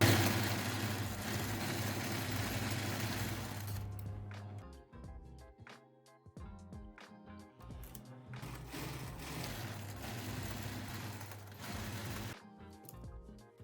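A sewing machine stitching a thrifted shirt closed, running in two sustained mechanical bursts separated by a quieter pause with small handling clicks, close and moderately loud.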